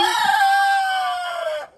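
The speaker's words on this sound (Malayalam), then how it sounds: "ഈ കോഴികളെ കണ്ടോ" A chicken in a backyard coop gives a single loud, drawn-out call close by, holding steady before tapering off, heard alone.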